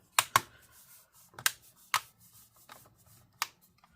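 Plastic palmrest clips on a Lenovo ThinkPad P16 Gen 1 laptop snap into place in about six sharp, close clicks spaced irregularly, with quiet handling between them and no talk.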